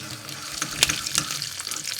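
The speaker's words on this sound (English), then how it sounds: "Let them fry out a little bit so they release the flavor in the oil." Mustard seeds and fresh curry leaves frying in hot oil for a coconut chutney tempering, a close, steady hiss and crackle with a few sharp pops and spits standing out.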